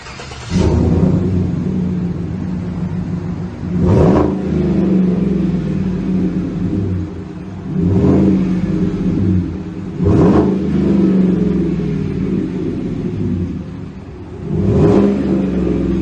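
A 2018 Chevy Silverado with V tube mufflers and 4-inch black stainless steel exhaust tips revs repeatedly in cold weather, giving four or five sharp throttle blips over a steady, loud, rumbling idle with no talk.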